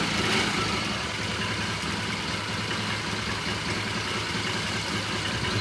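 A 1978 Triumph motorcycle in blue idles on its center stand indoors, a steady, even engine rumble holding at constant loudness throughout.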